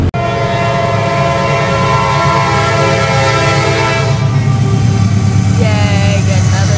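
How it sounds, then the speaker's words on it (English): Train passing at close range, loud and continuous with a sustained horn tone and rumbling wagons, steady throughout with a brief rising whine near the end. "Yay, get another train."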